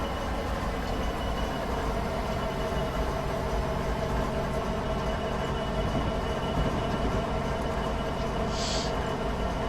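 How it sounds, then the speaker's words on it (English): A Norfolk Southern ES44AC heritage diesel locomotive rumbles along the Horseshoe Curve in Train Simulator 2016, a steady, loud engine drone with rail noise throughout and a brief high squeal near the end. "We're driving ES44AC. It's one of the Norfolk Southern Heritage Collection"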